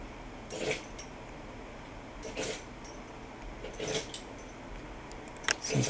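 A dog suffering an allergic reaction to freshly cleaned carpets whimpers and stirs in a few short, faint bursts, spaced a second or two apart, with a light jangle like collar tags against a quiet room.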